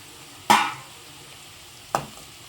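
Rice semolina is tipped into a pan of fried onions and stirred for a village-style rice rava upma. Two short, separate scraping stirs stand out against a low, quiet kitchen background.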